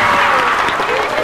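An audience at a Thai country-comedy stage show gives a brief burst of steady clapping, close and full. A voice talks over it.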